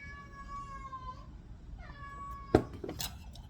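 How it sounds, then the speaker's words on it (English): Cat meowing indoors in a kitchen, two drawn-out meows followed by a sharp knock and clatter, faint and close. "I have a very determined cat."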